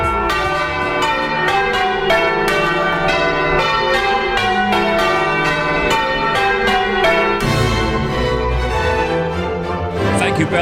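Church bells rung by bell ringers peal in a loud, continuous cascade of overlapping strikes, fading toward the end.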